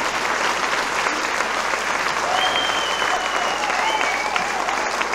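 Steady, dense clapping from an audience, loud and continuous with a few faint whistles mixed in.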